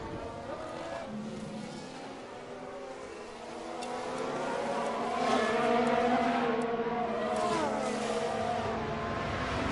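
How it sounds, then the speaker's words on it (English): Racing cars in the F1 Manager 22 game roar and whine as one car overtakes on sheer straight-line speed, engines swelling through shifting tones under a steady mix of engine noise with commentary voices. "that was a pure straight line speed overtake there"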